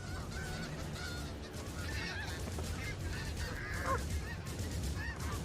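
Snow geese honk repeatedly in a noisy, busy chorus, calls overlapping against a steady outdoor rumble.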